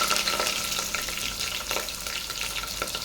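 Sliced onions and green chillies sautéing in oil. A close, continuous sizzle runs throughout, with light stirring scrapes on top.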